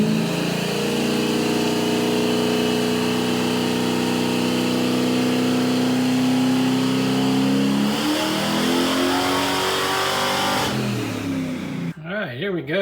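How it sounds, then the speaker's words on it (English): Car engine on a 100-shot nitrous setup with Sniper EFI makes a loud, sustained pull, pitch climbing steadily for about ten seconds before the engine drops off and settles near the end. "First pull with nitrous."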